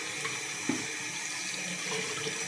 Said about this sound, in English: make sure the water is just about right. I like it like warm